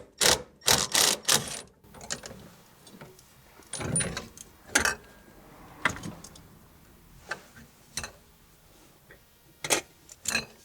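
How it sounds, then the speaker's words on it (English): A ratchet with a 15/16 socket works loose the steering wheel nut on a 1966 Mustang, giving irregular bursts of sharp metallic clicks and ticks up close, with quiet pauses between strokes. "we're going to use a 15/16 socket to remove this."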